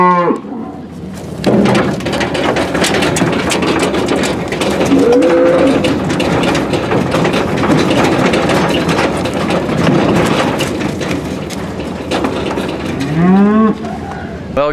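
Cattle moo loudly and repeatedly while being hauled to pasture, the calls near and drawn out over a steady rumbling engine and rattling trailer noise.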